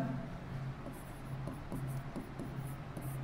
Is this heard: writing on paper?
yes